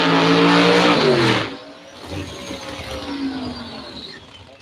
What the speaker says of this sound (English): Jason Smith in the right lane, LS turbocharged.